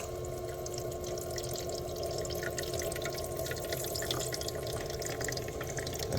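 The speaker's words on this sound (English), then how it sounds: "It's filling up the little tray in the back with the water that's in the bottom of this reservoir." A countertop ice maker pumps water from its bottom reservoir up into the small ice tray at the back, giving a steady, close trickling and splashing flow with a faint hum that runs unbroken the whole time.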